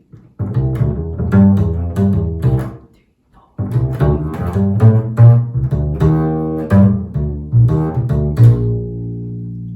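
A fast, busy bebop melody line played on a single upright bass, with a brief pause midway before the quick phrase resumes and ends on a held note.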